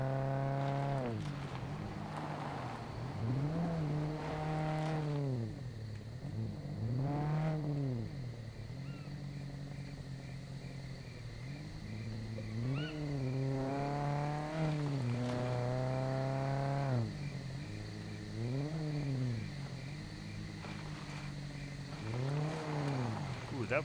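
Vehicle driving a twisty, turny road in the survival game SCUM, engine revving up and down repeatedly as it accelerates and eases through bends, loud and continuous with rising and falling pitch.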